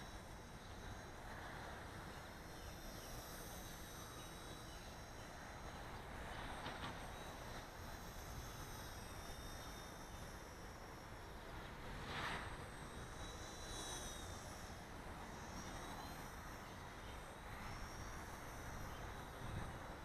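A WLtoys V930 Power Star X2 RC helicopter with green blades flies outdoors, its steady high-pitched rotor and motor whine running continuously at moderate distance without speech.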